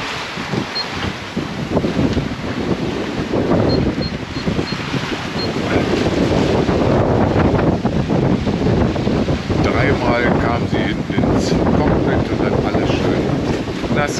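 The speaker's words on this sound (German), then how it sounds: "und Kreuzseen, die Welle kam von überall" Strong wind and confused cross seas pound a sailboat reefed down to a scrap of genoa on a Mexican passage to Isla Isabel, a constant loud roar of gusts and breaking water throughout.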